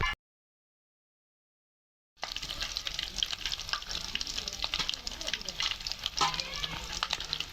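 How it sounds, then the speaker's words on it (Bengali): Potato chops sizzle in hot oil, a dense crackling hiss that starts abruptly after a stretch of silence and continues close up with occasional sharper spatters. "আর আলুর চপ ভাজতে আছে"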